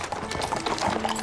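Cartoon horses' hooves clip-clop in a quick, steady rhythm, loud and close, with no talk over them.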